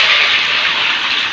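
Hog plums drop into hot oil already holding dried chillies, garlic, bay leaf, cinnamon and whole spices, giving a loud, close, continuous hissing sizzle.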